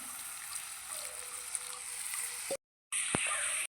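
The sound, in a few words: pouring milk water into prawn malai curry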